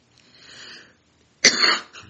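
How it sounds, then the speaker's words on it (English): A quiet throat sound is followed by a single sharp cough, close and abrupt, with nothing else around it. "Just a little cough."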